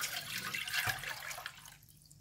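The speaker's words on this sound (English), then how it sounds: "I'm going to start off with the coconut water first. Put in the pot" Coconut water poured into a cooking pot, a steady close splashing stream that tapers off near the end, with no talking.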